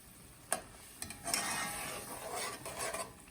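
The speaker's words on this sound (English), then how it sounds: "So I stir it" A utensil stirs thick pasta sauce in a pan, giving soft scraping and sloshing with a few sharper clicks against the pan over a continuous low sizzle, close up and with no talking.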